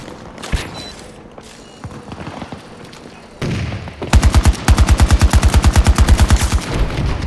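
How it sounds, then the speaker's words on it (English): Battlefield 2042 combat: scattered distant shots and a thudding grenade blast, then a loud, rapid burst of automatic gunfire firing in a steady, even rhythm close by. No voices are heard. "Grenade out!"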